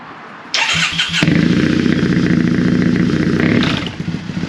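A Triumph T100 EFI motorcycle engine with the airbox baffle removed cranks and fires up, then settles into a loud, close, throbbing idle with a slight rev near the end.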